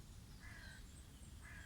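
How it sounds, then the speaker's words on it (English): A crow caws twice out in the open, faint and brief, over steady low wind rumble. "the sound of a crow"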